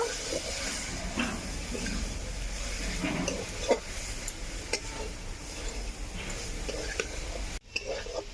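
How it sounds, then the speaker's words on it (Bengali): Grated coconut fries in a pan with a faint, continuous sizzle, and scattered soft scraping and clinking from stirring run throughout before a brief pause near the end. "নারকেলের গুঁড়োগুলো দিয়ে কিছুক্ষণ ভেজে নেব"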